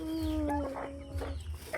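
Backyard chickens cluck close by in short, throaty calls over about two seconds, with a bright tonal cry near the start and low rumbling underneath.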